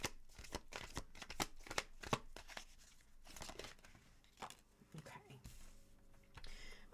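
Tarot cards being shuffled by hand in a quiet room, a run of quick papery riffles and crinkly flicks in irregular bursts, close and moderately loud, with a few soft thumps and rustles.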